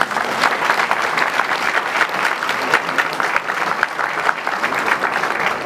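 Applause for a schoolchild at a town New Year's greetings ceremony in a hall, dense, loud clapping from a large seated crowd, even and continuous throughout, with no voices over it.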